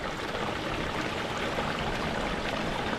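Steady rushing flow of water running through a gold sluice box with big riffles on the Yuba, washing muddy rocks, a continuous close wash with no voices.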